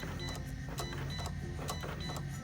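A Cricut cutting machine perforates a milk carton box in fast mode, giving a steady mechanical whirring with repeated short clicking bursts of the blade carriage, close and continuous with background noise under it.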